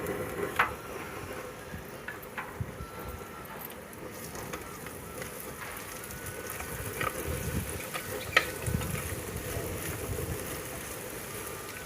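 Tomato pieces go into fish curry in a clay pot over a wood fire and sizzle softly, a faint, continuous crackle with scattered small pops and occasional stirring.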